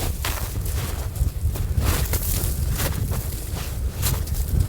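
Strong wind buffeting a microphone outdoors in Svalbard's icy wilderness, a loud continuous roar with gusty low rumble and scattered crunching steps, no talking.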